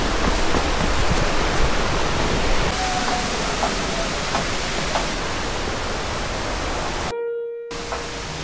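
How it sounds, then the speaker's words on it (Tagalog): Mactol Falls in Nagtipunan, Quirino, gives off a steady, dense roar of rushing water, loud and unbroken throughout, with no voices. "narating ko na ang nakamamanghang Mactol Falls"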